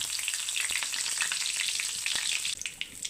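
Curry leaves sizzle in hot frying oil, a steady crackling hiss with bright spitting pops, close and fairly loud throughout, with a slight drop near the end.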